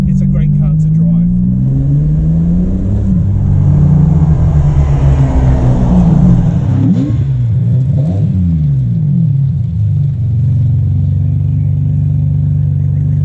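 Ferrari 550 Barchetta being driven, its engine a steady loud low drone with rising and falling pitch sweeps as it revs through gears, under a continuous road rumble.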